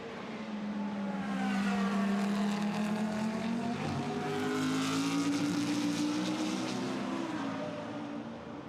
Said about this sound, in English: I think the Audi is now going to shake off the Ferrari as they work their way up towards the completion here of lap 42.